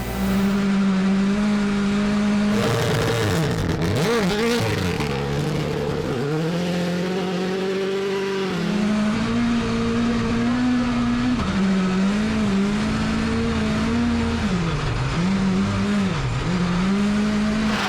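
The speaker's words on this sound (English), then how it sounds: "using second gear off the line to minimise wheel spin" A WRC rally car launches off the line in second gear, its engine screaming at high revs with brief tire chirps and wheel spin, the pitch rising and dipping repeatedly as the driver works for traction.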